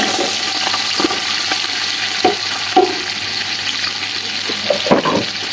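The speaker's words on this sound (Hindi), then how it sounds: "घी हमारा गर्म हो चुका है अच्छे तरीके से। इसमें 2 प्याज ऐड करेंगे" Two onions frying in hot ghee, with a steady, fairly loud sizzle and a few sharper crackles and pops as they hit the fat.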